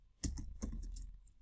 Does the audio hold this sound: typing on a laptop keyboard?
yes